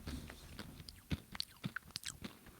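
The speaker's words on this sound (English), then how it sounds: "is my chewing annoying or no?" Trail mix is chewed right up against the microphone, giving close, crunchy bites in an irregular rhythm with wet mouth clicks between them.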